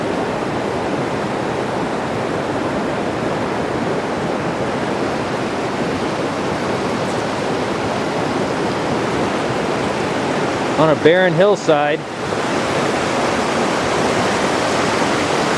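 A mountain river runs fast and loud on a barren hillside, a constant close roar of water, with a voice rising over it for a moment near the end.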